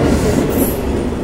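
Vande Bharat express train rushing past, a loud, dense, continuous roar of wheels and carriages up close, with no voices.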